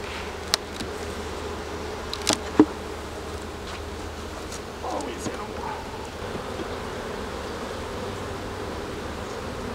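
Honeybees buzz steadily around an open beehive frame, a constant close insect drone filling the scene, with a few faint clicks and handling knocks and soft speech in French nearby.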